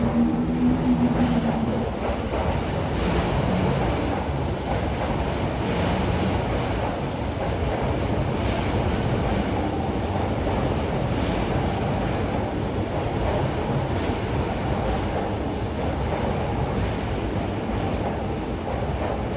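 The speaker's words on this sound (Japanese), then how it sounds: "車庫へ引き上げていく列車のお見送りをします" A commuter train pulls out of the station toward the depot, a steady loud rumble of wheels and carriages with faint rail squeal. The noise holds for the whole stretch with no talking.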